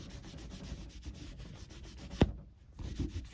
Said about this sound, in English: I'm going to rub this out now, just with another cloth to get the excess off here.